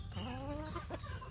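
Free-range village hens cluck in a quick, close burst of rising calls, brief and clear with no talking.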